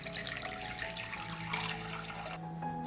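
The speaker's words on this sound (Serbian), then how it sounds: "Sipat ću vodu do visine poklopca." Water poured into a cloth-lined pot around glass jars, a continuous close splashing trickle that cuts off near the end with no talk.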